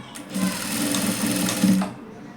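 A sewing machine stitches fabric for a three-layer tassel in one steady whirring run of about a second and a half, close and loud, with a soft mechanical hum beneath.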